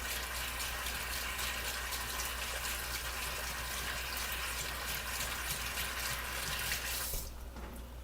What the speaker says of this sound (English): you can hear my water running because I'm going to go right to the sink